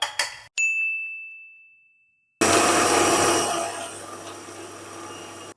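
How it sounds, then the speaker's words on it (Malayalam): A kitchen mixer grinder starts after a short ding and a quiet gap, then runs loud and steady with a dense whirring roar while grinding a spice paste for chicken liver fry. "ഈ മിക്സിയിൽ ഇട്ടങ്ങ് അരച്ചെടുക്കാം കേട്ടോ."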